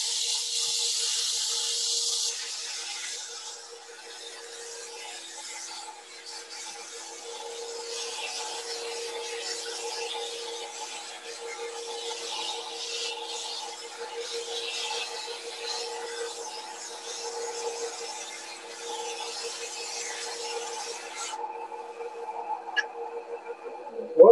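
A turned wooden paper towel stand being sanded on a lathe with 60 grit sandpaper: a steady rasping rub over the constant hum of the spinning machine, continuing for most of the stretch before the sanding stops near the end.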